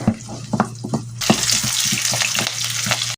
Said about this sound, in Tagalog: Gisa natin bawang,